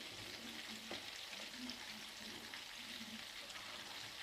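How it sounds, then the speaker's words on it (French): Ground beef steaks frying in a pan, a steady close sizzle with faint scrapes and occasional light clinks, no one talking. "J'ai mis mes steaks"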